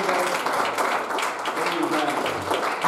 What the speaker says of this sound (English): Let's just give the Lord one more hand clap of praise.